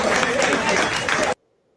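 Crowd clapping and cheering at a political rally in Georgia, a dense, loud wash of applause with voices mixed in that runs for just over a second before cutting off abruptly into silence.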